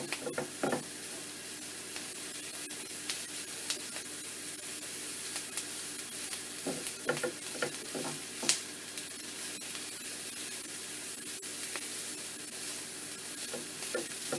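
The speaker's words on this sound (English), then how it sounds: "You can hear the onion starting to sizzle away now." Onion frying in a pan makes a faint, steady sizzle with a few sharper crackles and pops, and no voices.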